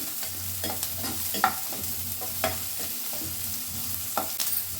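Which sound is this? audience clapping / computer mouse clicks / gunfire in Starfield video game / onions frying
onions frying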